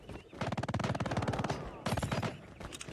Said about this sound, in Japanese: これ、音するぞ。 銃声するぞ。